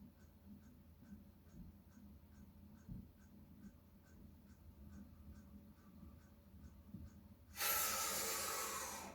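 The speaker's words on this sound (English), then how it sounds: "Take a nice big deep breath in. Appreciate being alive and breathe out." After a quiet stretch with faint regular ticking, a single deep breath is let out close by as a loud, breathy rush that fades at the end.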